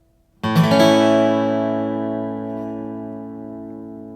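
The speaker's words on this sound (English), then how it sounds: "This is the toughest chord we're learning today, but it is a very common chord for guitar players to learn" A single guitar chord is strummed once and left to ring, its tone sustaining and slowly fading.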